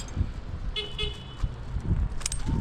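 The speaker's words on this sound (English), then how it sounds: "What are you honking at down there?" A car horn honks on a road below, two short toots close together near the start, followed by rumbling traffic noise and scattered knocks.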